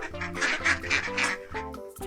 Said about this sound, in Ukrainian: Звуки, які видають дорослі качки, називаються кряканням